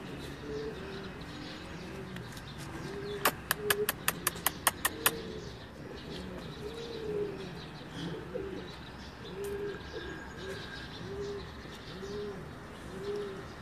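Pigeons coo softly and repeatedly at a distance in a rooftop setting, their low rolling calls continuing throughout, with a brief burst of sharp clicks or claps early on.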